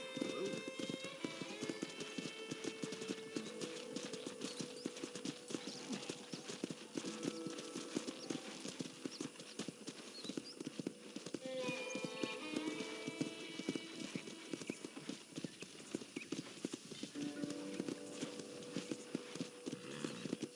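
Horse hooves clip-clopping steadily in the Red Dead Redemption video game, a walking rhythm that carries throughout, with an occasional whinny and a voice talking over the hoofbeats.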